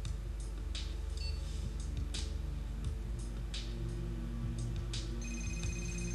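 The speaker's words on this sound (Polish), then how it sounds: "Ach, kolejny telefon." A phone rings in the Street Fighter IV video game, repeating electronic trills at a steady rhythm over a constant low game soundtrack.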